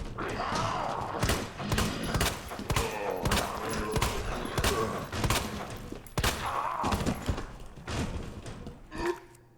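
Repeated gunshots in Resident Evil 2 ring out in a steady, uneven series of loud, sharp blasts with thuds and mechanical clicks between them, a voice talking underneath.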